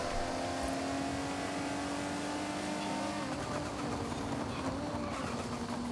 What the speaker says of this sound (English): it's probably it's the wastegate of the turbo, I think